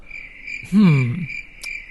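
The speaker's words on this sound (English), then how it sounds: "Crickets." Crickets chirping in a steady, evenly spaced high trill, with a brief low voice-like sound in the middle.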